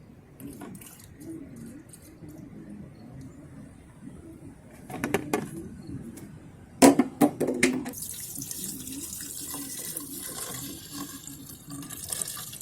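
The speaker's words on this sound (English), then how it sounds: "it's basically siphoning itself now" Coolant siphons out of a 1977 Oldsmobile being winterized, a faint trickle of liquid that turns into a few sharp splashes and then a steady hissing stream of fluid.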